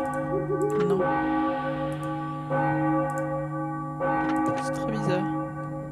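A bell tolls in the video game Enigmatis: The Ghosts of Maple Creek, a long sustained ring with a fresh strike partway through, heard under someone speaking briefly in French.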